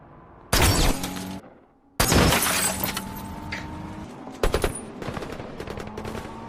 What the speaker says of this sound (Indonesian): si abah pemilik lapangan tembak pun ikut membantu Jack Reacher dengan menjadi penembak jitu